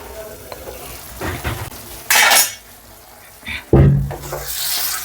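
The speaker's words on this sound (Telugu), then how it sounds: "ఇదైతే లో ఫ్లేమ్లో కరెక్ట్గా ఒక 2 నిమిషాలు అయితే మూత పెట్టేసి వేపుకుందాం." Gravy for bisi bele bath cooks in a pan over a low flame, with a soft steady sizzle and bursts of spoon stirring and scraping against the metal. Louder clatters come in clusters between stretches of quiet frying.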